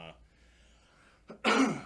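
A faint vocal sound, then a quiet pause before a single loud, harsh cough or throat-clear bursts out up close.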